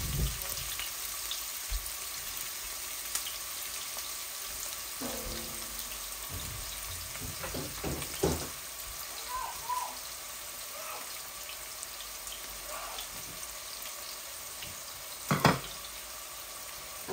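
Blended onion sizzling in hot oil in a pan with boal fish, cooked with flat beans, a steady low crackle with occasional clinks and scrapes of stirring, no voices.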